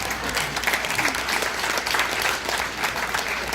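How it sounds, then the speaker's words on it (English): A round of audience applause for a scholarship recipient at an award event, dense and fairly loud clapping from a room full of people, sustained evenly from start to finish with no speech over it. "Give her a round of applause as she comes up here and joins me."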